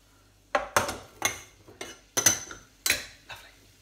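A metal spoon clinks and scrapes against a pan while stirring garlic and onions, several sharp separate knocks spaced irregularly with short scraping tails, close and clear with no talking.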